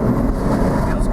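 A tuned Porsche 987.2 Spyder PDK turbo engine held at half throttle, a steady dense low drone filling the cabin with continuous rumble and no breaks.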